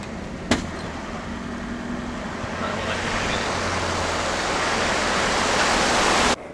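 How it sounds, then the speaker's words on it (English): A small waterfall tumbles beside a river crossing on the Gibb River Road, a steady broadband rush of falling water holding constant throughout, with a low engine hum underneath and a brief click near the start. "It's got quite a little waterfall on the side there."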